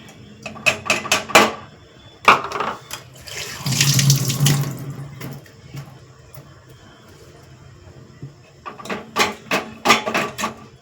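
A kitchen tap runs while a tamarind-soured lentil-stock saaru is being made: clattering handling sounds come first, then a steady close gush of water pours for a couple of seconds, followed by more knocks and clinks.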